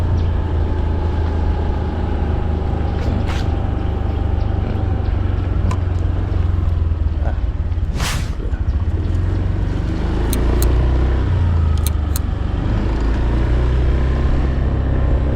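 A vehicle rides along the Mekong riverbank at a riverbank protection construction site in Thakhek, Laos, its engine a steady low rumble close by, with road and wind noise throughout and a few brief clicks and knocks.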